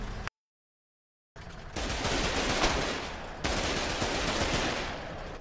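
Rapid, loud automatic gunfire from a World War-style video game battle with a half-track, a brief gap of silence, then a sustained dense barrage of shots continuing to the end.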